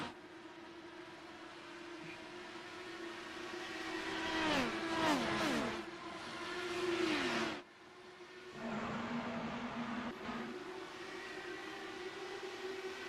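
IndyCar race car engine from a racing video game at Chicagoland, a loud sustained whine climbing through gear shifts with sweeping pitch bends, a brief dropout, then a steady high drone resuming.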